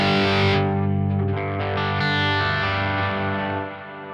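Electric guitar with a clean tone and ambience effect played through a Quad Cortex in a live setup, sustained shimmering chords ringing out and washing together before fading near the end.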